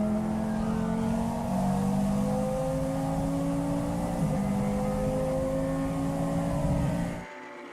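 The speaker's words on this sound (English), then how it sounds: "now we see the Lamborghini Super Trofeo and the Porsche Super Cup being hunted down by the KTM Crossbow of Karin Racing" A pack of racing cars, a Lamborghini Super Trofeo, a Porsche Super Cup car and a KTM X-Bow, drones past at the Slovakia Ring during a GT endurance race, steady engine notes holding and shifting pitch before cutting off abruptly.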